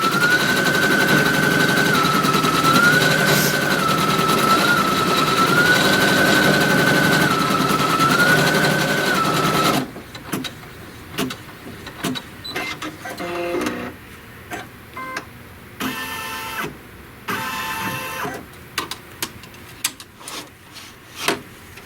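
An embroidery machine stitches the outline of a leaf appliqué shape, a long steady mechanical whir with a whining motor tone, then stops and gives way to irregular clicks, taps and short bursts of whirring.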